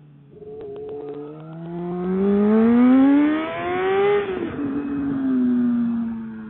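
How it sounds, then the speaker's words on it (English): A 2008 Honda CBR 600RR motorcycle with an aftermarket exhaust pipe accelerating hard, its loud engine note rising in pitch through the gears, dropping at each shift, then climbing again, heard alone and close. "I am riding on my 2008 CBR 600RR. It's got an aftermarket pipe on it, so it's pretty loud."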